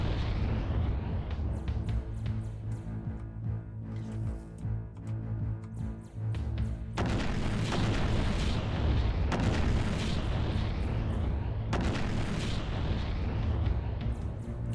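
Cannon broadsides from warships in a Treasure Planet: Battle at Procyon naval battle, a dense run of heavy booms and bursts over a low rumbling din, with the firing intensifying into a near-continuous barrage.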